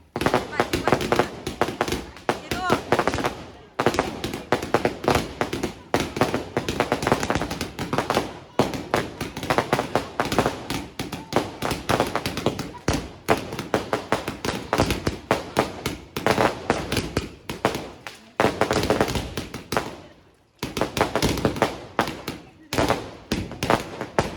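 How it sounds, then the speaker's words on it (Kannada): Rapid, continuous crackling bursts of firecrackers going off close by, loud and sustained, with a few short pauses between volleys. "ಪಟಾಕಿ ಸೂಪರಾಗಿ ಹೊಡೆದ್ರು"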